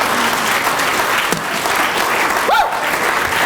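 Sustained applause from a crowd at a university alumni student leadership event, steady and continuous hand clapping throughout with a brief whistle-like tone partway.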